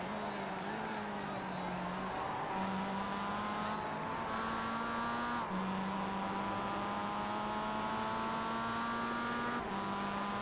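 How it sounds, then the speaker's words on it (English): Engines of a pack of faster race cars in a racing video game, a steady loud droning whine with shifting pitch that holds throughout, with occasional gear-change steps. "Group of faster cars approaching."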